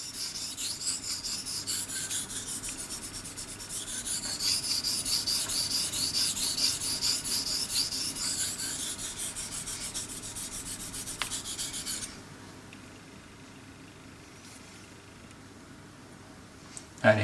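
A knife blade rubbed back and forth on a Belgian blue coticule whetstone with water slurry, a continuous close raspy scraping that fades out after about twelve seconds.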